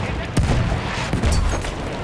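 Heavy gunfire in a Battlefield 1 multiplayer match: a dense, rumbling barrage with a couple of sharper blasts standing out, close and loud throughout.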